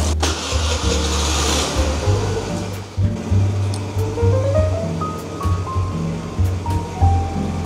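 A heavy motorbike is wheeled out and its engine started on a Saigon street in Vietnam, the mid-pitched motor turning over and idling steadily up close amid street ambience.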